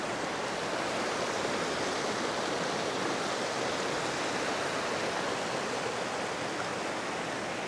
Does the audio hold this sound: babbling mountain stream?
yes